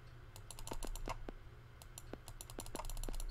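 Rapid light clicks from a computer mouse and keys on a desk, a quick irregular series of crisp taps, close and fairly quiet over a low steady hum.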